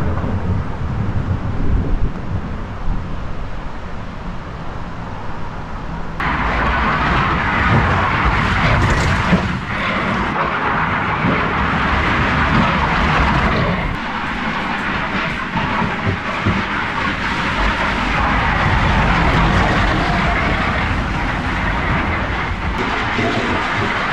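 Bobsleigh rushing down the La Plagne Olympic track, a loud continuous roaring rush with rattling and wind buffeting that surges and shifts throughout, heard up close from on board.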